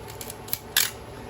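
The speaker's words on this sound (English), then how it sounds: "indoors we're going to start at 60, and if we look, we can actually see the mirror pop up" A Pentax Spotmatic 35mm film camera fires its mirror and shutter indoors, two short mechanical clicks close up, the second a sharper, louder snap, in a quiet room.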